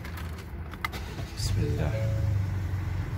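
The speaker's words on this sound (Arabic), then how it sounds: "شغل السيارة عشان الجو الحلو" A Ford Expedition Platinum SUV starts up from inside the cabin, a short crank followed by a steady low engine idle, fairly quiet, with someone briefly speaking just before it turns over.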